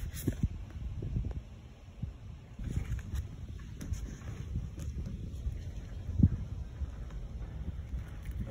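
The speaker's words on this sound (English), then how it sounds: "it was so windy out there." Gusty outdoor wind buffets the microphone in a steady low rumble with occasional stronger gusts, heard alone with no talk.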